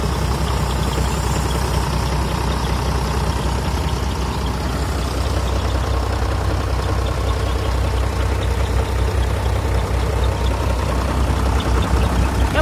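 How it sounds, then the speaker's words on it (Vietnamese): An Iseki 1085 tractor engine idles close by, a loud, steady, even diesel chug with a low rumbling throb that holds constant throughout, with no talk. "động cơ nó nổ đều quá ha"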